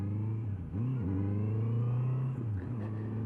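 A 2018 Honda CB650F motorcycle engine cruising at 60 mph around 4,500 RPM, a steady loud mid-pitched drone with brief throttle dips and swells in pitch, heard close with no talk.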